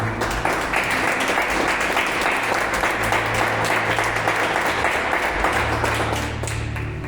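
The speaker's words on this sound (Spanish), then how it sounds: "Dale un fuerte aplauso, querido" A church congregation at a Sunday service breaks into loud, sustained applause, a continuous dense wash of clapping with a low steady hum underneath.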